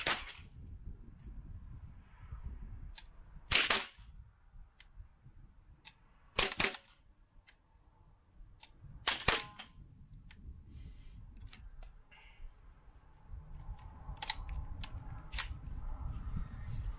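Mini rifle gunshots during IPSC practical shooting training: sharp cracks in quick pairs and singles across the stretch, with metallic clicks and handling noise between them over a steady outdoor background.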